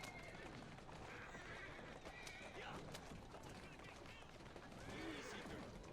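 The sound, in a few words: horse neighing and clip-clop in video game Assassin's Creed Syndicate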